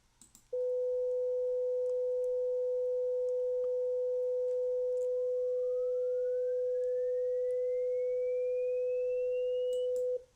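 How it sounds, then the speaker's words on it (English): A steady pure sine tone holds while a second fainter tone rises smoothly in pitch above 500 Hz, gliding higher over several seconds before both cut off together. "I will sweep the second tone to higher frequencies"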